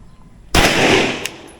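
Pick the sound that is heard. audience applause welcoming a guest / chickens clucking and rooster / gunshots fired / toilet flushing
gunshots fired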